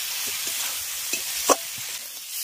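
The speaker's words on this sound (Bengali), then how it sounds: "এবার মশলার সঙ্গে আলুগুলোকে আগে একটু ভাজা ভাজা করে নেব" Potatoes frying with spices in a pan for a curry served with dal puri, giving a steady close hiss and sizzle with a couple of soft stirring scrapes, no talking.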